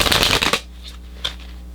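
Playing cards shuffled for a pick-a-card reading: a dense, close riffling burst for about half a second, then near silence with a couple of faint soft taps.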